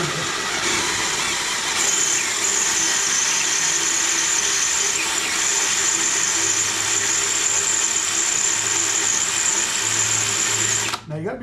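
A power drill boring through a metal part of a Toro 22-inch Personal Pace self-propelled push mower, a sustained high whine that runs steadily for about eleven seconds before stopping abruptly, with someone talking over it.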